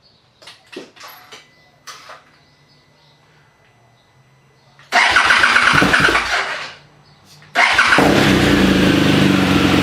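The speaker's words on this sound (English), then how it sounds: "So the new plugs are installed right now. Let's see how it starts." A motorcycle fitted with new laser iridium spark plugs gives a few faint clicks, then its engine cranks and catches loudly, cuts out briefly, and restarts into a steady, close, roaring idle.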